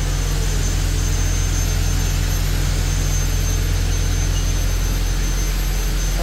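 A wood planer runs continuously in a workshop, giving a loud, steady, smooth hum with a low drone and a high whine, unbroken for the whole stretch, with no voices.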